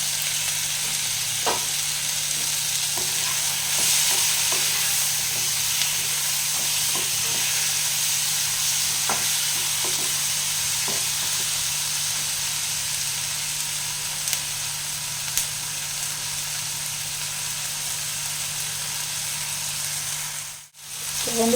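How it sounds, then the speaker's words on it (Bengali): Spices with salt and turmeric fry in a pan for paneer masala, a steady close sizzle broken by occasional spoon scrapes and stirring clicks, ending in a brief dropout. "এইভাবে একটু হালকাভাবে ভেজে নিতে হবে"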